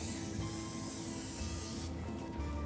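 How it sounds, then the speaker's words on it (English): Vegetable cooking spray hisses steadily onto a single layer of white bakery bread slices before toasting, a continuous close spray lasting a few seconds with no talk. "just spray a little of this vegetable spray on"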